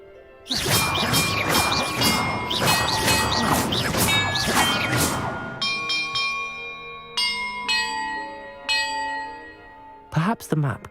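Bells ring in a Hogwarts Legacy puzzle, a dense clanging peal of many overlapping strikes, followed by a few separate resonant bell tones that ring out and decay, then a final sharp hit.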